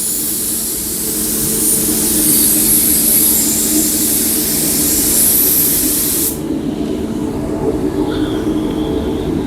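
Spray gun laying a drop coat of paint onto a car panel, a loud continuous airy hiss held for about six seconds before it stops abruptly, leaving a lower background rumble.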